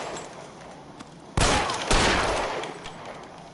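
Gunfire in a PS4 video game: two loud, close bursts of shots a half second apart, each trailing off into a fading echo over low background ambience.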